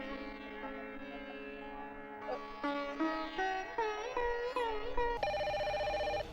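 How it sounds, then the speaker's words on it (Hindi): Telephone ringing with a tonal electronic melody, a repeating ringtone that rises in steps and turns brighter near the end, heard alone and fairly faint. "फोन आयल छै देखू तऽ केकर फोन छै"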